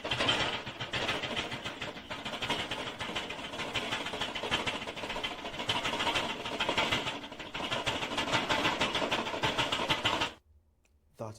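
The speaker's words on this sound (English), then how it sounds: "So the name of this sound, when there's shaking movement of window, usually metal, so it's rattle." Metal window shaking in a continuous loud rattle, a dense rapid buzzing clatter that runs steadily for about ten seconds before stopping abruptly, followed by near silence.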